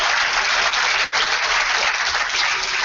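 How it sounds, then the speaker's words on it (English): An audience at a college film festival applauds in a steady, dense wash of clapping that continues without a break, moderately loud and with no voices over it. "Can we have a huge round of applause"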